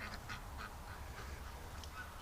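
Several ducks quack in short bursts outdoors on a winter outing, calls repeating irregularly over a steady low rumble of background noise.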